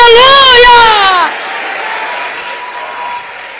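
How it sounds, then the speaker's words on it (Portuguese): A church congregation claps during a worship service. A loud, drawn-out voice rings out at first, then a steady wash of clapping continues at a lower level until the end. "Misture essas palmas com glória a Deus e aleluia!"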